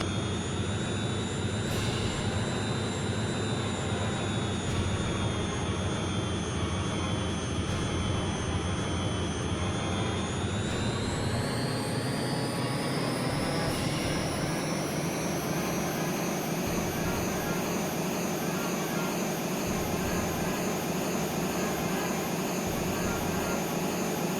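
Harrier jump jet engine in jet mode from the PlayStation game Eagle One: Harrier Attack, a loud steady turbine roar with a rising whine that climbs in pitch partway through, continuous throughout.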